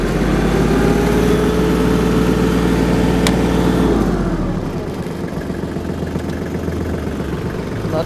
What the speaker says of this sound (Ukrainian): Перевіримо вал відбора потужності.